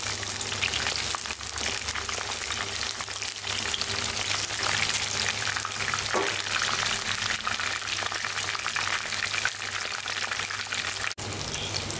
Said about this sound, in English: carefully add and fry these brinjals up to